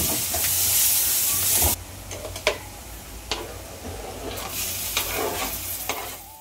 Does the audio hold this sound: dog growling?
no